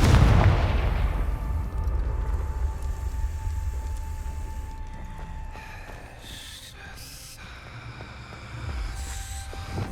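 A Confringo fire spell explodes in Hogwarts Legacy, one loud boom at the start decaying into a long rumbling tail, followed by quieter game ambience and faint bursts later.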